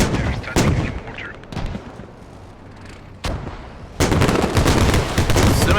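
Mortar and other weapon fire in the multiplayer war game Squad, heavy booming shots and cracks coming in separate bursts, then turning into a dense, loud barrage toward the end.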